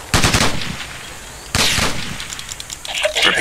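Gunfire in the video game Ghost Recon comes as two rapid automatic bursts, loud and close, each trailing off, with faint scattered shots toward the end.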